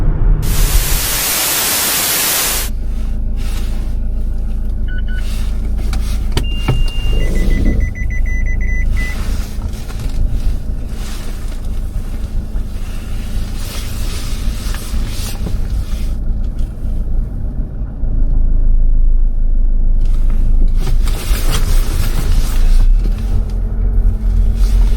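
A car driving to work in Germany, steady road rumble and engine drone with broadband tire and wind noise throughout, a brief louder burst at the start, no talking.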